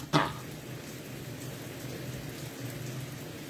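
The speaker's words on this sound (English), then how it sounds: "It's raining outside." Steady rain falls outside, a soft, even hiss that carries on at low level from start to end, opening with a brief sharper knock or drop.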